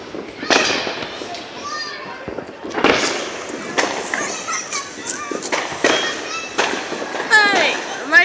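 Fourth of July fireworks pop and crackle in a rapid, irregular series of bursts outdoors, mixed with people talking and exclaiming nearby and a whistling shriek near the end.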